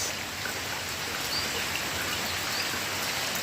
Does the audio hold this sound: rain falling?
yes